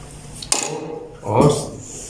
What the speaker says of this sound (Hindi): अभी हम डाल देते हैं जो प्याज हमने बचाए हुए थे